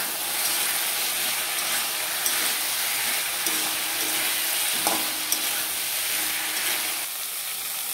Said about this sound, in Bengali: ডাঁটাগুলো দিয়ে আমি একটু কষিয়ে নেবো।